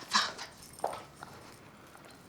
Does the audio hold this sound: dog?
yes